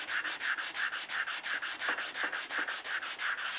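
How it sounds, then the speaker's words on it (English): Rhythmic back-and-forth scraping of 60-grit sandpaper on wood, about three strokes per second, close and even, with no voices. "I'll use 60 grit sandpaper to flatten it out."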